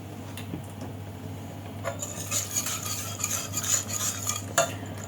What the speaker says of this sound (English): I'm going to get the whisk this, and we're going to let that come up to the boil.